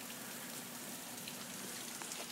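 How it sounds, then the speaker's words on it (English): Heavy rain pours down outside a family house during flooding, a dense, steady hiss of drops that fills the whole stretch without a break and without voices. "that rain is really picking up"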